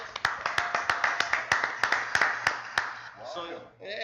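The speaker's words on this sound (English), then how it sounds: "Let's give her a round of applause." Audience clapping at an evening sports talk show as a guest is introduced, a dense run of sharp claps at steady loudness that thins out and fades near the end.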